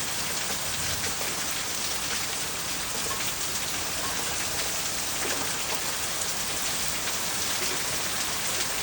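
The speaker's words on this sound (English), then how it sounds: "I said this was just listening to rain" Steady, dense rain pours down beside a barn during a storm, a constant close hiss that never lets up, with no voices.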